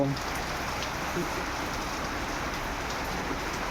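Steady heavy rain pouring down on a waterlogged farm field in Fatehpura, Mansa, a dense continuous hiss of drops on surfaces, loud and unbroken throughout.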